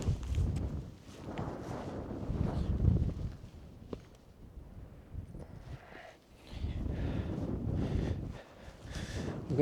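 Wind gusting across a hilltop fort wild camp on Carrock Fell in the cold dark, a low rumbling buffet on the microphone that swells, eases, then rises again.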